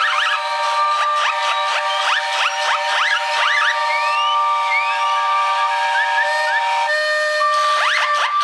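Many steam whistles blow at once in a whistle-off at a vintage show, a loud, continuous chorus of overlapping pitched tones, some sliding up and down.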